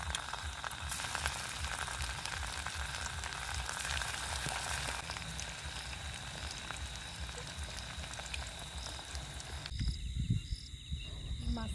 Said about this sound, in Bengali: তেল গরম হয়ে গেছে, পকোড়াগুলো ছেড়ে দেবো।